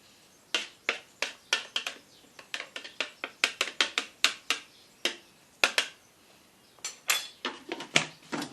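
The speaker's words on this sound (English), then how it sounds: "just scrape the sides of the blender" A spatula scrapes the sides of a blender jar full of hummus, producing a quick, irregular series of sharp clicks and taps. The sounds are close and fairly quiet, with no talking.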